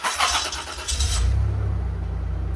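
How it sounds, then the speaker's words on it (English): Ford Mustang with a newly fitted exhaust cranks briefly and catches, settling into a low, steady rumbling idle, close by and fairly quiet. "let's hear this beast start up now with its newly found exhaust"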